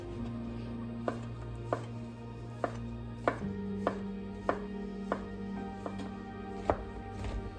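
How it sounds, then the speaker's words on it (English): Mushrooms being lightly chopped with a knife on a cutting board for chicken wild rice soup, a steady series of about a dozen crisp, close knife strikes over a low background hum. "He says he's going only a light chop."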